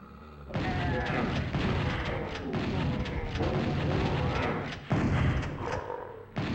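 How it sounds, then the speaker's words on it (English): Explosions going off in the background of a game, heavy booming thuds and rumbling blasts in a dense continuous barrage with a sharp louder burst near the end, with some voice mixed in underneath. "Just see them like exploding in the background."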